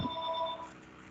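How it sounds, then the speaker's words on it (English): A telephone rings briefly indoors, a thin electronic tone with a clear pitch that fades out within about a second, heard alone at moderate level. "Sorry, the phone's ringing right now."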